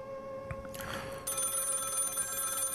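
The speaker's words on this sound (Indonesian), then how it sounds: "Apakah sama sekali tidak ada yang mendengar deringan telepon seberisik ini selain aku?" A telephone rings in the middle of the night, steadily with a high, continuous electronic tone, fairly faint and heard alone after a brief rustle.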